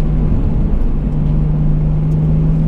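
Turbocharged engine of a 1980s Toyota Supra pulling under acceleration around 3000 rpm, a steady loud drone with a strong low hum and broadband road noise, continuous from inside the car with no talk.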